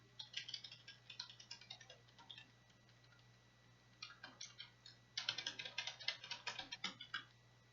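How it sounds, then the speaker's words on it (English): Keys clatter faintly on a computer keyboard in bursts of rapid clicks with short pauses and a heavier flurry near the end, over a steady low electrical hum and no speech. "and then jam on the keyboard"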